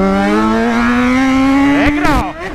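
An engine drones with a steadily rising pitch, like a motorcycle revving up, then a couple of sharp sweeping bursts near the end.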